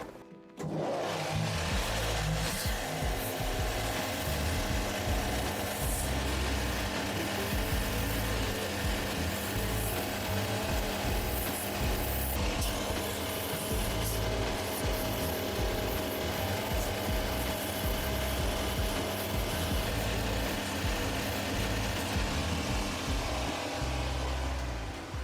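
Old stitches being sanded off a Paraboot shoe sole with a power tool: a continuous loud, gritty whirring grind that runs steadily for about 25 seconds, close up and with no voices.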